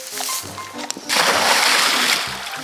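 A pointer dog plunges into water with a loud splash and churning slosh, preceded by a brief voice urging it on.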